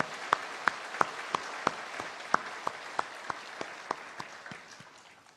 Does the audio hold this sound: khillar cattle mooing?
no